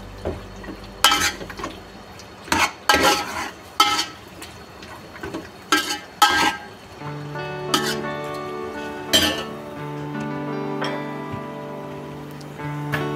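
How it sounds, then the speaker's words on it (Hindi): Meat frying in oil in a pot for haleem, with repeated loud scraping and clinking of a spoon against the vessel over a low sizzle, the stirring thinning out toward the end. "ऑयल के साथ गोश्त को फ्राई करेंगे 2 से 3 मिनट तक"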